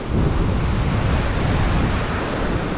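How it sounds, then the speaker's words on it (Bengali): Ocean waves roar loudly and continuously on a beach at Cox's Bazar, mixed with heavy wind buffeting close to the microphone. "বিচের সাউন্ড শোনাই আপনাদেরকে"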